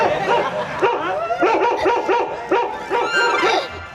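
A frightened dog barks and yips over and over at close range, a steady run of sharp, loud barks separated by short gaps, with no talking on top.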